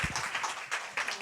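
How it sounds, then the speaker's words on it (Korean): A church congregation claps briefly, a short burst of soft, scattered applause heard at a distance. "영광의 박수 올려드리겠습니다."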